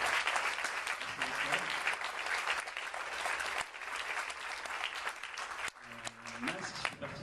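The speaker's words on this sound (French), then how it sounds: "Et vous pouvez l'applaudir si vous avez le cas." Sustained applause fills a festival screening room for a fantastic-film premiere of Masks, loud and continuous, with a brief dip midway before clapping resumes.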